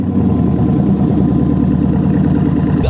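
A Hemi V8 runs with electric exhaust cutouts open, a loud, close, throbbing rumble with a steady pulsing beat for a few seconds.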